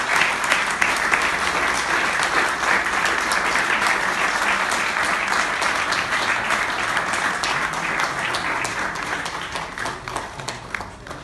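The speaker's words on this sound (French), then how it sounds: "Je vous demande d'applaudir." A large audience claps steadily at an awards ceremony, dense continuous applause that holds strong throughout and thins slightly near the end.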